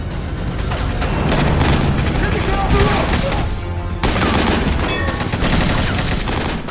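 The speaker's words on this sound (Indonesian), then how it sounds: "tiba-tiba mereka diserang oleh sekelompok orang hingga terjadi aksi tembak-tembakan" Rapid bursts of gunfire crack and boom through an action film shootout, dense volleys overlapping almost continuously and loud, with a brief pause and then renewed firing.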